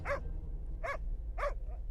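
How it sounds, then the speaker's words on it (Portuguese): A dog barks three times at an even pace, the last bark softer and trailing off, heard over a steady low rumble. "Enquanto o cachorro latia, ela se arrastava por entre o mato"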